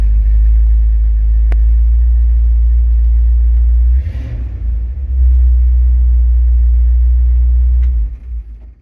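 A 1970 Dodge D100 pickup engine rumbles steadily at idle with no talk, dipping briefly midway as the transmission is shifted through its gears before settling back into a low, even drone.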